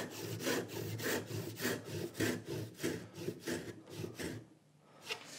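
Hand saw cutting through wood in a woodworking shop, about a dozen rhythmic rasping back-and-forth strokes, close and clear, ending with a short pause and one last stroke.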